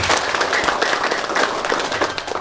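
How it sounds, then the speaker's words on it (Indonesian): Applause fills a hall at the inauguration of a nurses' association board in Indramayu, a dense steady clapping from a crowd, loud and continuous. "Tepuk tangan untuk kita semuanya pada hari ini."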